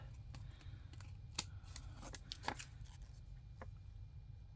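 Scissors snip through paper in a quiet home craft room, a handful of faint, irregular crisp cuts over a low steady hum, with no talking.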